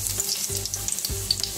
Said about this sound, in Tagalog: nagpainit na ako ng mantika sa ating kumukulong kawali. Ay, lagay natin ang ating bawang. Halu-haluin ng bahagya.